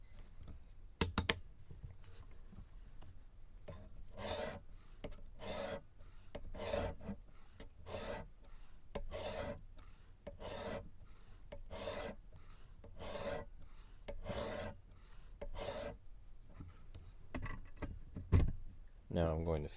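Kershaw Bracket knife being sharpened on a Work Sharp Pro at 800 grit: a run of about a dozen evenly spaced rasping strokes, close and crisp. Quieter handling noises come before and after the strokes.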